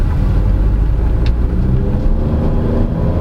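Inside a 2022 MG ZS T Trophy, the engine gives a loud, steady low rumble as the car accelerates, with no voices.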